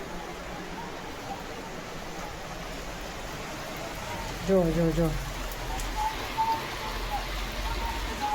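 Heavy rain falls in Rajkot as a steady, even hiss on surfaces all the way through, while a nearby voice speaks briefly partway.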